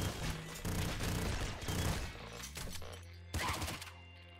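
Rapid machine gun fire and explosive bursts in the top-down shooter Nuclear Throne, dense and loud for about two seconds, then thinning into scattered shots and thuds, with one final sharp blast near the end.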